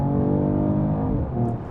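A Mercedes-AMG CLS 53 with an inline-six hybrid engine in Sport Plus mode pulls away and accelerates, giving a steady, loud, close engine drone that rises slightly over a short stretch, with no talking.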